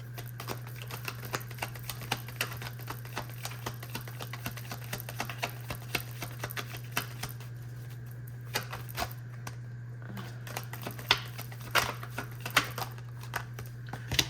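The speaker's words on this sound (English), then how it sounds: "That was a lot of shuffling." Quiet, rapid clicking and riffling of tarot cards being shuffled, with sharp irregular bursts over a steady low hum; no one speaks.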